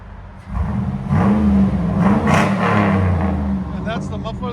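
A 2004 Chevy Silverado SS with a 6.0L V8 and Carven R-Series exhaust is revved close by: a deep burbling idle swells into a loud, sustained rev, then eases back down.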